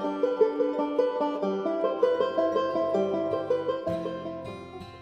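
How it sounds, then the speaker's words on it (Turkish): A cümbüş, a fretted Turkish instrument with a skin stretched over a wooden body, plays a plucked, bright melodic line of quick successive notes over lower sustained tones, close and steady, without speech. "Cümbüşler böyle ses çıkarır."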